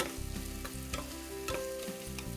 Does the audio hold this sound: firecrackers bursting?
no